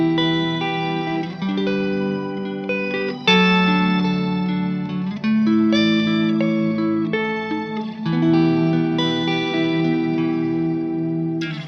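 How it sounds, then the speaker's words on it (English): Electric guitar through a shimmer reverb, plain dry chords ringing loud while a pad of higher octaves swells in the background wash, several sustained chord changes with no voices. "But now if you use a shimmer reverb instead, now the octaves are only added on the reverb and not on the dry signal."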